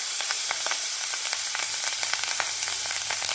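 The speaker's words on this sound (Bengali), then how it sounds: "আর এখানে যে আমি পেঁয়াজ কুলিগুলো কেটে রেখেছি সেটা দিয়ে দেবো।" Chopped onions hit hot oil in a kadai, with panch phoron seeds already in the fish-frying oil. They give a bright, constant sizzle dotted with quick crackles and pops, close up and with no talk.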